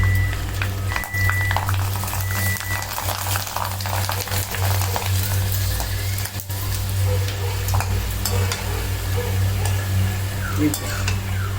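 Dried cluster bean vathal fries in a pan with a continuous close sizzle and crackle, and a utensil stirs and scrapes now and then.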